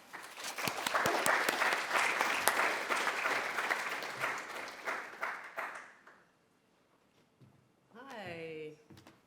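Audience applause welcoming an artist to an artist talk: dense, steady clapping from a crowd for about six seconds that fades out, followed by a brief pause and then a voice beginning to talk.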